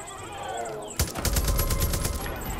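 A gunshot cracks out in the Far Cry 5 video game, followed by a dense burst of rapid gunfire that keeps going at close range.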